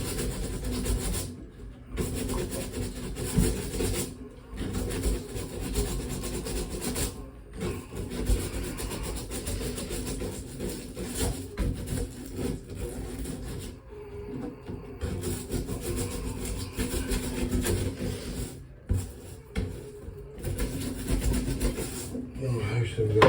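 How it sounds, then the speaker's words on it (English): Steady rough rubbing and rasping from scrubbing a bathtub piece, continuous with brief pauses throughout, close and moderately loud. "let's do a little scrubbing to that piece"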